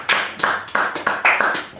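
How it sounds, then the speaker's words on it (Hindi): A small audience claps to welcome a guest, a brief burst of sharp, uneven hand claps close by, lasting under two seconds. "जोरदार तालियों से इनका स्वागत किया जाए"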